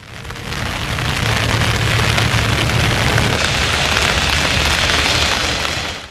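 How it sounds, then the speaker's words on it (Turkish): A heavy rain shower pours down in a steady, dense roar of drops hitting surfaces, loud and continuous from start to finish with no voices over it. "Meteorolojiden gelen uyarının ardından öğle saatlerinde sağanak yağış etkili oldu."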